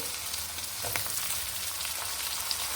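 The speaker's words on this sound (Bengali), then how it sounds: "আলুটাকে আমি সুন্দর করে একটু ভেজে নেব লবণ হলুদ দিয়ে" Boiled potatoes fry in a pan with salt, turmeric and green chillies, giving a steady close sizzle with a faint scrape or two and no voices.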